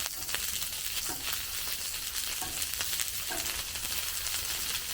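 Jalapeno and vegetables sizzle steadily on a Blackstone griddle during a hibachi-style stir fry, a dense close-up hiss with faint scrapes and stirring clatter throughout, no voices.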